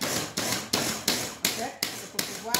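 A Ninja blender pulses a legume mixture in about seven evenly spaced bursts, each a loud close whir with an abrupt start and a short gap between.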